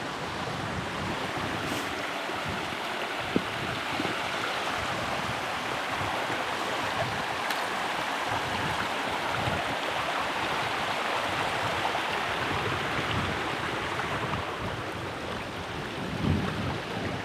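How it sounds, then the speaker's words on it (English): A small, shallow stream flows over rocks on a hiking trail on the Isle of Skye, making a continuous broad rushing and babbling with wind noise mixed in, steady and fairly near for the whole stretch. "So there are a couple of these little streams you have to cross, which is very easy because it's shallow."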